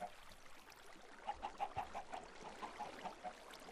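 Chickens cluck in a video game farm pen, a run of soft, short clucks coming in a cluster near the middle and again toward the end, fairly faint over a steady background hum.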